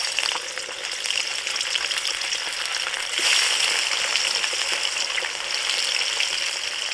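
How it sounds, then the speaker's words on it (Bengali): Fish pieces frying in oil in a kadai for a Bengali fish rezala, a steady close crackling sizzle that swells slightly a few seconds in as more fish is added, with no talking. "কড়ার মধ্যে মাছগুলো আমি একে একে দিচ্ছি"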